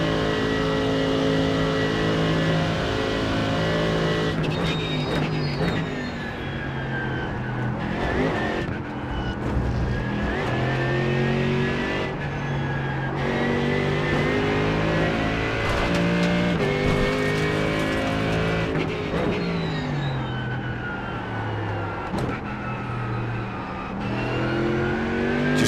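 An Acura GT3 race car in the iRacing sim with its engine revving hard and running through gear changes, a loud, continuous high-pitched whine that rises and falls repeatedly with no talking.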